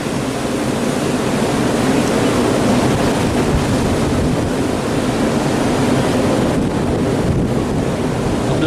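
Rough open-sea waves during a shipwreck, a loud, continuous wash of surging water with wind noise buffeting the microphone throughout.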